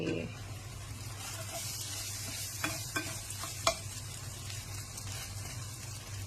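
Red ant eggs fry with beaten egg in a pan, giving a continuous close sizzle and hiss with a few small clicks of a utensil against the pan partway through.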